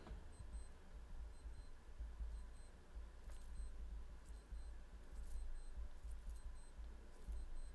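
Faint, high-pitched low-battery beeps repeat in short regular pairs against a quiet background hum.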